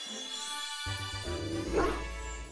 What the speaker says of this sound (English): These have been the most normal sounding dog noises in any game I've ever played of Pokemon